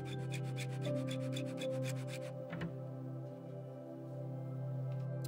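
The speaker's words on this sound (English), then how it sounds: "Then the ends can be filed flush for a quick OCD check of alignment." Rapid rhythmic rasping of a file stroking back and forth, filing brass inlays flush in Bolivian rosewood, then stopping, with a low steady hum underneath.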